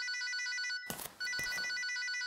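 A telephone ringing with rapid electronic trills in two bursts, interrupted briefly by a clattering handling noise in between, close and clear.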